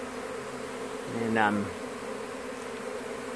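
Honeybees buzz during a hive removal from a mobile home. The swarm hum is steady, with one bee passing close and loud near the middle, and someone speaks briefly.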